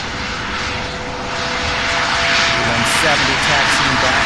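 Airplane taxiing at Louisville's SDF airport, a loud steady engine roar and whine filling the whole stretch, with people talking over it.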